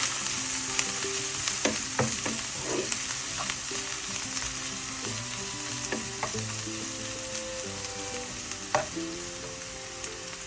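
Snow peas stir-fry being stirred in a hot pan, a steady sizzle and frying hiss with scattered clinks and scrapes of the spoon against the pan, no talking.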